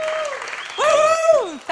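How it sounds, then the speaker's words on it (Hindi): Audience applause at a press meet for the launch of the comedy show Comedy Nights Bachao Taaza, a steady wash of clapping with a voice talking loudly over it throughout the short burst. "और अब जोरदार तालियां हमारे नए सीजन के लिए, कॉमेडी नाइट्स बचाओ ताजा."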